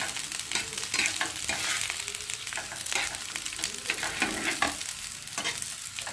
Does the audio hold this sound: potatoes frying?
yes